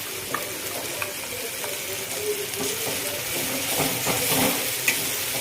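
A paste of onion and coconut fries with chicken in a pan, giving a continuous moderate sizzle with scattered clicks and scraping stir strokes throughout.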